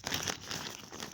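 A bag from a GoPro accessory kit crinkles as it is handled, a brief soft rustle of plastic close to the microphone.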